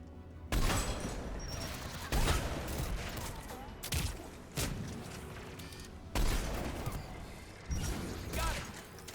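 Anti-aircraft guns in Mass Effect 3 let off five or six heavy, booming bursts spaced a couple of seconds apart, each a loud blast trailing into rumbling mechanical noise.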